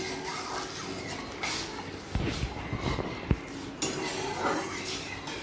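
Lentils being washed with water in a metal pot while cooking vegetable khichdi, with scraping, stirring and clinking of utensils against the pot and a sharp knock partway through.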